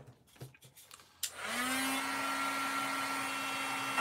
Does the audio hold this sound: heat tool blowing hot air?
yes